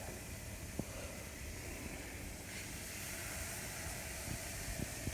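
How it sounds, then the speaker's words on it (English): Pork chops sear in a hot pan, producing a constant broad sizzle and hiss with a few faint ticks and pops, steady and close throughout, with no one talking. "Listen to the searing on this."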